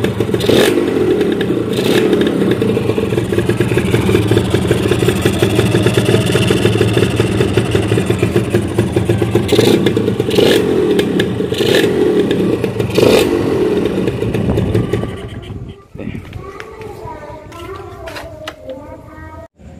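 Suzuki Satria two-stroke motorcycle, left parked for a month and now clearing built-up oil, idling loud and close with a rattly, uneven burble and a few blips of throttle, then the engine cuts out near the end.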